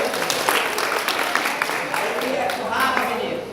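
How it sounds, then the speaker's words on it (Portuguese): An audience at a church gathering applauds a correct answer in a quiz, a scattered run of clapping mixed with crowd noise and a voice talking over it. "A salva de palmas pro Maxwell aí"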